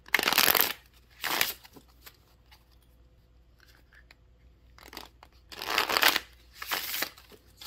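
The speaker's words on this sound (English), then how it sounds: "Shuffles. I love the shuffle of this deck." A tarot card deck is riffle-shuffled close up in several crisp bursts of rapid card flutter separated by quiet pauses, with faint handling sounds between and no talk.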